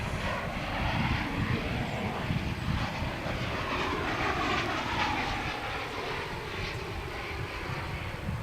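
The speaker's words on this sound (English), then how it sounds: "Here's a flight from Puerto Vallarta in Mexico." An American Airlines airliner on a flight from Puerto Vallarta passes at DFW International Airport, its engines a steady, loud broadband roar that holds nearly constant throughout, with no talking.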